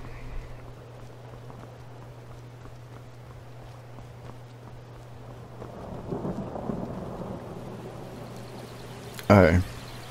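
A thunderstorm with rain in the video game Skyrim: steady rainfall hisses throughout, a low rumble of thunder swells midway, and a loud sharp crack comes near the end, with a steady hum underneath.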